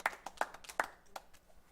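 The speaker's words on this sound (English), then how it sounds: "How about we give them a big round of applause" Band members give a few faint, scattered handclaps, sparse and uneven, dying away within a couple of seconds.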